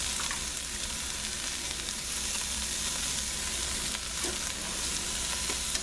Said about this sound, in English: sauteing very nicely, the shrimps have been in there for 3 minutes